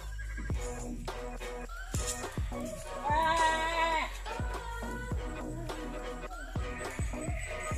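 Sheep on a farm bleat repeatedly from close by, several sharp overlapping calls spread across the whole stretch, and a loud drawn-out bleat stands out in the middle.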